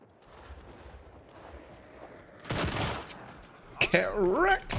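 Gunfire from the video game World War 3 bursts out mid-clip as a loud, dense cluster of shots, with a second volley near the end that sets off tonal, warbling effects, all following a quieter stretch of game ambience.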